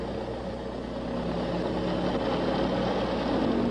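A light aircraft engine runs at steady high power during a crosswind takeoff, a continuous droning roar that swells slightly in loudness.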